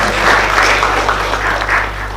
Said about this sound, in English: A big round of applause to all the audience.